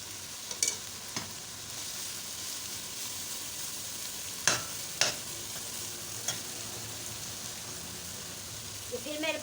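Mutton keema sizzles and fries in a karahi under a steady hiss, with a handful of sharp scraping clicks from the stirring utensil scattered throughout.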